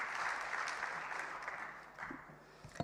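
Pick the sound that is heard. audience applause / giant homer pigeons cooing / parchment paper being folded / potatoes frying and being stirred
audience applause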